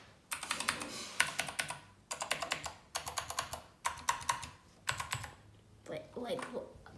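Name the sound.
gaming keyboard keys being pressed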